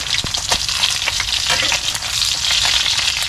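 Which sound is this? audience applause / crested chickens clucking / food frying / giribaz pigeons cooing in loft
food frying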